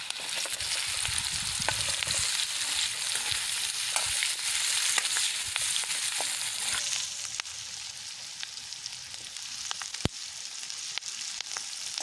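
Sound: chopped onion frying in a pan

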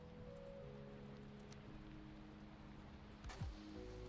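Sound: rain in a video game

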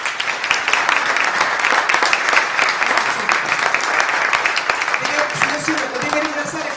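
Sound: audience applause

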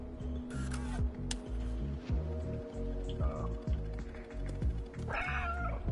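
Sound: cat meowing in the video game Stray

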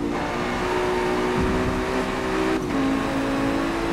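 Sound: race car engine in video game

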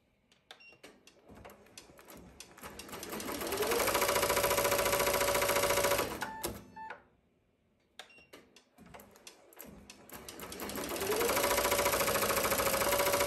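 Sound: Ricoma MT1501 embroidery machine stitching

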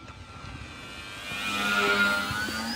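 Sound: E-flite Decathlon RC airplane flying

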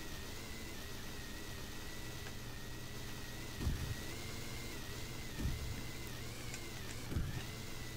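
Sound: snowmobile 800cc engine in the video game Sled Storm

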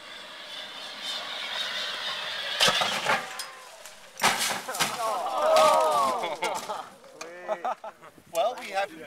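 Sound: crash test vehicle flying off rail, rolling and landing

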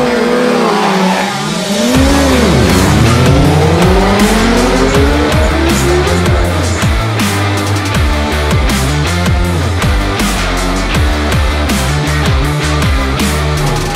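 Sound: motorcycles racing in a sprint race on an airfield

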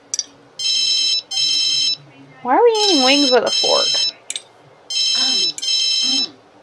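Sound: telephone ringing in The Sims 3 video game

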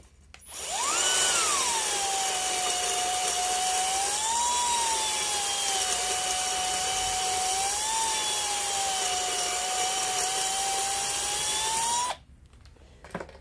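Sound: power drill honing cylinder at low speed

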